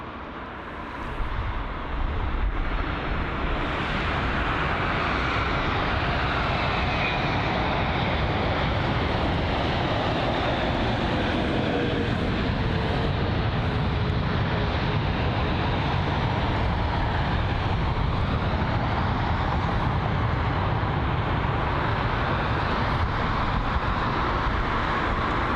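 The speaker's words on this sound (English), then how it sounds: "that was a bit of a floaty landing for the 787" A Boeing 787 Dreamliner comes in to land at London Heathrow, a loud, continuous broadband jet roar that holds steady throughout with a slowly shifting tone.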